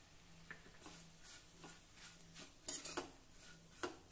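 Dry grated coconut, roasted sesame and crushed peanut powder being stirred together in a pan, giving soft scraping and light clinks of a spoon against metal at an irregular pace, close and fairly quiet with a faint sizzle beneath.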